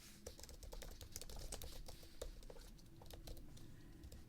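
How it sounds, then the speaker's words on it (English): Fingers type on a computer keyboard, a quick irregular patter of soft close key clicks running continuously and quietly with no talking. "So I'm going to type that in here."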